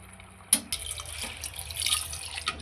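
Water pours into a pot of simple gravy mutton curry, starting with a sudden splash, then a light splashing trickle, fairly quiet and close, with no talking.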